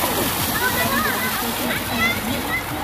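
Water splashes steadily as a child swims across open sea at Balay Isabel, with busy churning and slapping throughout and voices faintly present in the background.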